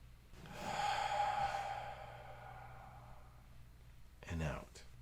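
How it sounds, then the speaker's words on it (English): During a meditation and mindfulness breathing exercise, one slow, close breath is drawn in and released as a long, soft airy exhale, followed by quiet and then a shorter breath with a voiced edge. "So you hear that breathing, you feel that breathing"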